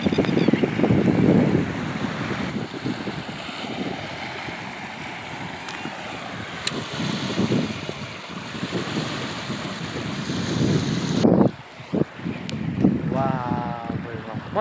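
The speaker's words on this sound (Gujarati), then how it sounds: "જો પાણી છે જો અહીંયા આવે, જો દરિયામાં કેમ હિલાસા મારતું હોય એવું હિલાસા મારતું આવે" Water from Shetrunjay Dam washes and laps in steady waves, a continuous broad rushing roar with wind buffeting the microphone throughout and a brief drop near the end.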